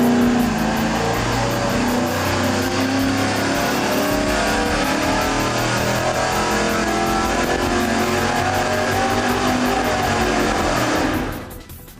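A car engine runs a full-throttle pull on a dynamometer, a loud, unbroken mechanical roar lasting about eleven seconds before it abruptly drops away.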